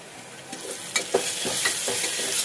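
Red lentils (masoor dal) and mint sautéing in a pan for khichdi are stirred with repeated scraping strokes over a steady, close sizzle.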